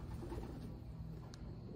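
A racing pigeon coos softly and repeatedly in a loft, a faint low murmur under steady background noise.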